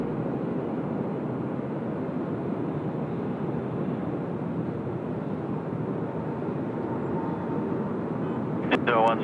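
A United airliner takes off at Sydney Airport bound for Houston, its engines a broad, steady roar heard from a distance that holds throughout, with a brief voice breaking in at the very end.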